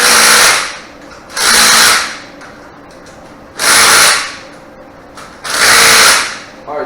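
An impact wrench drives wheel bolts onto a B6 Avant wheel in four loud, close bursts of rattling whir, each about a second long, with short pauses between them.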